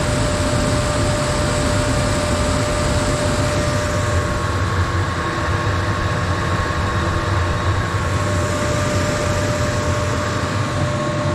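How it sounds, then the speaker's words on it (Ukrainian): Warm air blows steadily from a soybean dryer, a loud, constant broadband rushing roar with a faint mechanical hum underneath, close and unbroken throughout, with no talking. "Тут чути, тому що тут я не ущільнювач не поклав і чути, вже такий тепле повітря йде."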